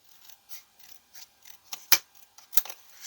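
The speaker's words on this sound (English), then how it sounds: "I am going to turn it over and cut this extra piece off. I've only got a tiny pair of scissors here," Tiny pair of scissors snipping cardstock while trimming an extra piece from a kinetic waterfall card, giving a series of short, light clicks and snips, spaced irregularly and close up, with no talk.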